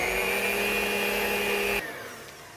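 An electric hand mixer whirs steadily through oatmeal apple cookie dough made with oats, flax, almond flour, coconut flour and baking powder, then cuts off sharply, leaving a quieter fading hum.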